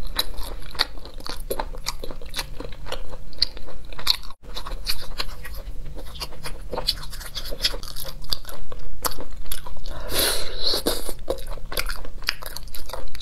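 Close, crisp crunching and chewing of an edible flower taken from a dish, steady bites throughout and a louder burst of crackling crunches near the end, with no talking.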